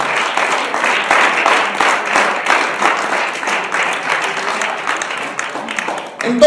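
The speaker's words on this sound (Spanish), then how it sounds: "Den un aplauso fuerte" A church congregation applauds loudly and steadily for several seconds, a dense wash of clapping that tapers off near the end.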